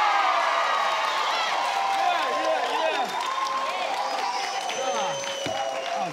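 Studio audience on a South African family game show clapping and cheering continuously, a loud dense crowd roar with whoops, sustained throughout and fading slightly toward the end.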